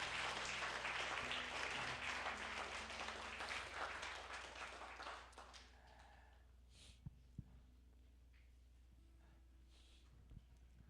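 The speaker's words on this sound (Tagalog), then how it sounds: "Bigyan po natin ng papuring palakpak ang ating Panginoong Diyos." A worship-service congregation claps in sustained, dense applause that fades after several seconds into a quiet room with a few faint knocks and shuffles.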